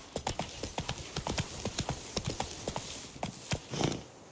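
A horse gallops in The Witcher 3: Wild Hunt, with rapid, rhythmic hoofbeats on the ground, steady and close, and a brief snort or whinny near the end.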